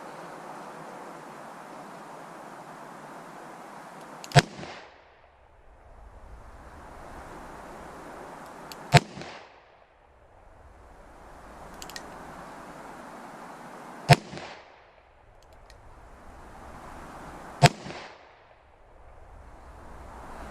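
Four sharp, widely spaced shots ring out from a Smith & Wesson 686-6 seven-shot .357 Magnum revolver with a 2.5-inch barrel, fired single and then double action, each crack followed by a short echo over a steady windy hiss.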